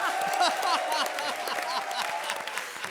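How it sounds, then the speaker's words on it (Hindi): Studio audience of a Hindi comedy show clapping in a dense burst, loud at first and then easing slightly but continuing steadily to the end. "ठोको ताली"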